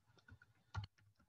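A computer keyboard is typed on at close range, with a handful of soft, quiet keystrokes in an uneven rhythm and one slightly louder tap near the middle.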